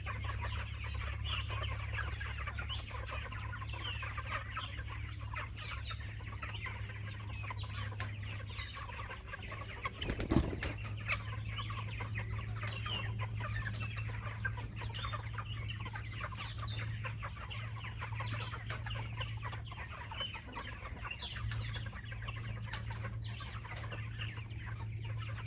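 Steady murmur of chickens clucking and chattering throughout, with a low hum underneath and one louder bump partway through.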